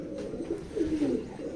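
Rampuri pigeons cooing in a loft, a soft low murmuring coo that swells and repeats in a couple of rounded phrases, close by and fairly quiet, with no talking.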